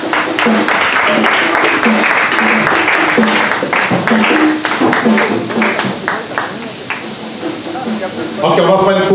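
A church congregation bursts into sustained, dense applause as diplomas are handed out during a service, clapping fading slightly midway then swelling again, with voices speaking over it.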